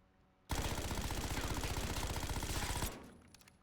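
Sustained automatic gunfire in the video game Black Ops 6, one loud unbroken rapid burst lasting over two seconds with a fast, even rhythm, close and dominant, cutting off abruptly into quiet.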